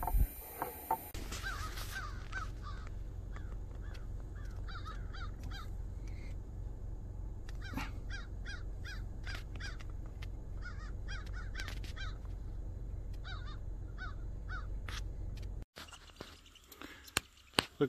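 Crow-like caws from a bird perched in a tree on a farm, repeated harsh calls in irregular bursts over a steady low outdoor rumble, with a short break and some clatter near the end.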